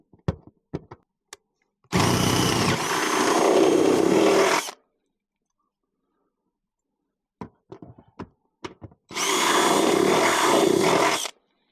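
A power drill bores a pilot hole in a shop and strikes a rib: two loud, sustained whirring bursts of a few seconds each, separated by quiet stretches with scattered clicks and taps.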